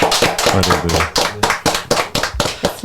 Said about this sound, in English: Clap it up for Mayce Murti one time